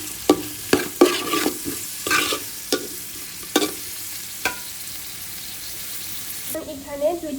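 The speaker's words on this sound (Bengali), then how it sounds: "ভালো করে নেড়ে চেড়ে" Mixed vegetables with red peppers and peas being stir-fried for vegetable fried rice in a pan, heard as a steady sizzle broken by sharp spatula scrapes and knocks, close and fairly loud, with a brief sound of running water near the end.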